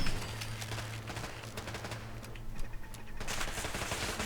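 Gunfire in the Fallout 4 video game, a dense, continuous burst of shots and noisy combat sound held at a steady level throughout.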